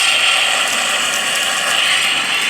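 An old pressure washer engine is cranked over, giving a steady mechanical whirring and ticking that runs throughout at close range.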